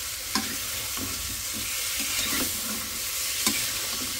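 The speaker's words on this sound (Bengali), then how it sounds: "মাছ আলু একসাথে আছে, দিয়ে দিই, কষায় নিয়ে এটা কষায়" Fish and potatoes fry together in a pan, a steady sizzle running throughout with soft stirring scrapes and a few sharper clinks of a utensil against the pan.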